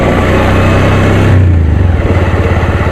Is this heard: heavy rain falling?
no